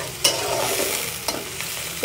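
Close, steady frying hiss of small shrimp cooking with onions in a pan, with sharp stirring clinks and scrapes at irregular intervals and no talking.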